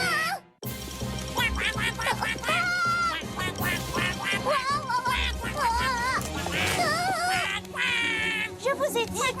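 Loud, rapid duck quacking fills the clip, with many excited quacks overlapping in a busy, chaotic jumble.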